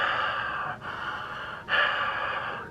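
Heavy, raspy breathing from a masked figure climbing stairs, two drawn-out breaths separated by short pauses, close and fairly quiet.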